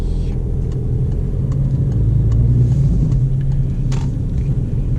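A car engine runs under a steady low rumble as the car rolls up to a stop sign and turns right, heard close from inside the cabin with faint clicks and no talk.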